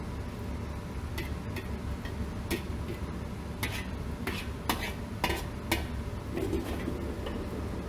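An omelette with chopped toon leaves frying in a nonstick pan, a faint steady sizzle beneath repeated sharp taps and scrapes of a spatula against the pan, close and without talk.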